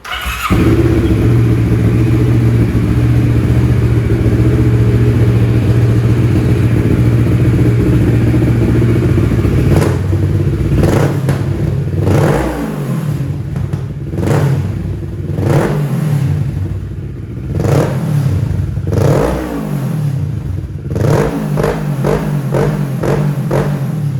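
Kawasaki Z900 or ER-6n motorcycle engine idling close and steady, then revved in a series of sharp throttle blips that rise and fall repeatedly through the latter half.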